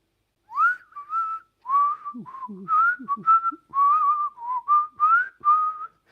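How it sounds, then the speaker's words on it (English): A person whistles a meandering tune in short phrases with pauses between, close and clear, with a few soft knocks and rustles underneath. "Sorry, the whistling's probably really annoying, I've just realised."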